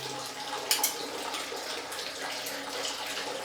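Water runs steadily from an instant water heater tap in a continuous rushing stream, with a couple of brief clinks near the start.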